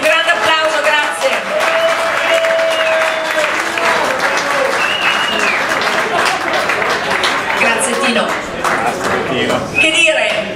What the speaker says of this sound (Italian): Un grande applauso, grazie.